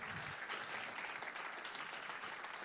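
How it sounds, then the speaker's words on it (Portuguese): Distant church congregation applause, a continuous wash of clapping heard faintly throughout with no pauses. "vamos mais uma vez aplaudir o nome de Jesus"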